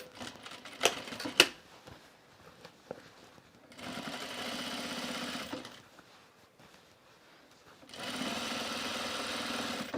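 A sewing machine stitches fabric for a pair of pants in two sustained runs of rapid mechanical whirring, preceded by sharp handling clicks and knocks, close and moderately loud with no talking.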